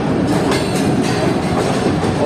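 A passenger train, the Pak Business Express, leaving Karachi, moves onto the main line, its coaches giving a steady close rumble with rhythmic clickety-clack over the track joints.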